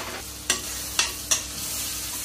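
Rice and tomato mixture, for tomato bhat, being roasted in a pan under a soft steady sizzle, with three sharp scraping strokes of a spoon against the pan.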